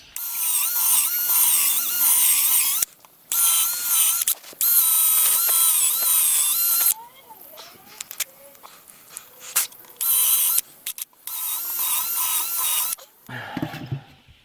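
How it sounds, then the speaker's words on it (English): A power drill whines in repeated bursts drilling screw holes in wood, revving up and stopping several times with short pauses between, close and loud. "Drill them down."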